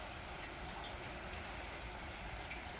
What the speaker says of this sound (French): Bon, la pluie elle a repris.